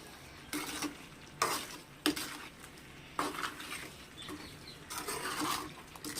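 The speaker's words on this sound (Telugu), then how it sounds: "ఇప్పుడు అన్నీ కలిసేటట్టు అయితే ఒకసారి అయితే కలిపుకుంటున్నాను." Chicken pickle with garam masala being stirred in a pan, a spoon scraping in repeated bursts over a soft background sizzle, close and fairly quiet with no talking.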